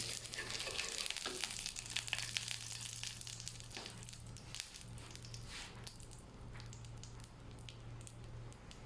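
Food fries in bacon fat for a peanut oxtripe stew, a faint, steady crackling sizzle with a low electrical hum beneath and a few soft scrapes, no speech.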